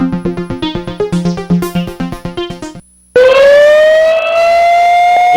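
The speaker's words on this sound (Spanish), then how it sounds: "La alarma indica que ahora llega la participación del pueblo que está esperando." An alarm-siren jingle on a Spanish-language radio show opens with rapid pulsing electronic beeps, then after a short gap a loud rising wailing siren tone sweeps upward and holds.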